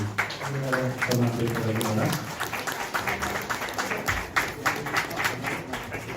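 An audience applauding at an award ceremony honoring a journalist and writer, steady clapping from a crowded hall with a voice talking over it throughout.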